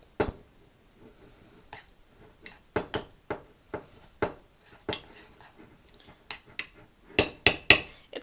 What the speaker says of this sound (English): So we give it a little stir.